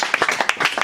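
A church congregation claps and applauds in praise at a worship service: a brief, lively burst of overlapping hand claps, close and fairly loud, with no talking.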